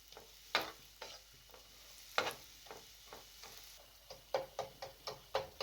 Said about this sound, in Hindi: ये देखिए जी, सूजी भी हल्की आंच पर भून रही है।